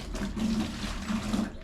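Water pours steadily into a bucket for mixing floor leveller, a soft continuous splashing fill heard close and fairly quiet with no talk.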